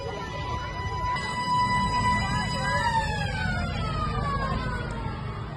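A disaster warning siren at a school in Palu wails up and down continuously through heavy, noisy background rumble, loud and sustained throughout.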